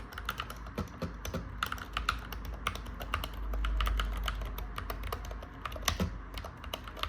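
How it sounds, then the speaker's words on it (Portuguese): Steady typing rattles on an Akko TAC75 HE magnetic keyboard, a close, quiet stream of rapid light keystrokes with brief pauses and a few sharper clacks, no one speaking. "Para um teclado magnético."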